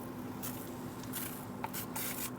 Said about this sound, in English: I've been using a very, very fine spray to keep that bark in place.